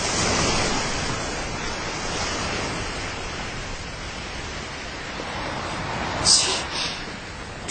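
Ocean waves and surf wash steadily as a sound effect behind a Korean radio reading, a continuous broad hiss with a slight swell near the end.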